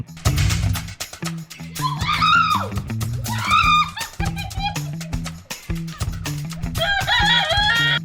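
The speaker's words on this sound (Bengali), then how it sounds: "মুরগিটি রেগে গিয়ে মহিলার উপর কিভাবে আক্রমণ করার চেষ্টা করলো দেখুন" An angry chicken attacking a woman gives loud, agitated squawks and clucks in repeated bursts over a rhythmic background beat, with a human voice mixed in.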